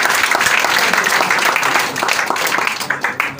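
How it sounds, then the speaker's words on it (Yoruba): Audience at a ceremony honoring the new Asiwaju of Yorubaland bursting into loud, sustained applause, dense clapping from many hands close by that dips briefly midway and then swells again. "Ẹ pàtẹ́wọ́ fún bàbá."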